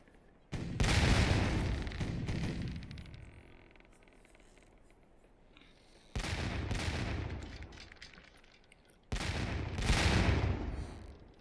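An enemy sailing ship firing cannon broadsides at the player's vessel in Sea Dogs: To Each His Own, three loud booming volleys of rapid overlapping shots separated by quieter gaps, each decaying into a rumbling tail.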